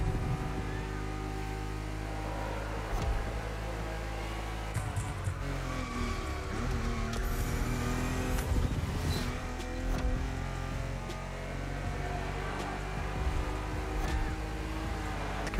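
Porsche 911 on the final lap of a race in The Crew Motorfest, engine roaring continuously at high revs with shifting pitch and occasional sharp bumps and clicks, loud and sustained without talk.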